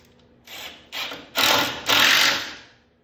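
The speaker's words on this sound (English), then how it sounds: "we're gonna go ahead and put some screws in here" Screws driven one after another into a wooden boat frame set in a building jig for a Somes Sound 12 1/2 sailboat, four short rising bursts of a drill whirring, close and alone.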